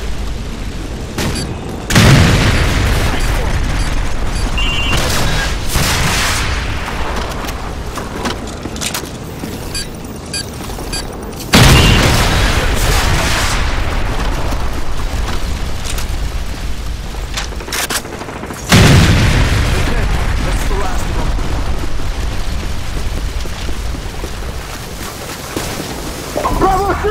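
Call of Duty 4 battle with explosions and heavy gunfire, sustained loud sustained bursts of shooting with several sharp booming blasts rising out of a constant roar of combat.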